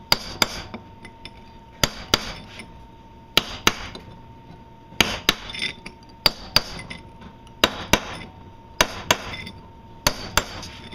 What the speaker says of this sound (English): you take your chisel and work your way down that groove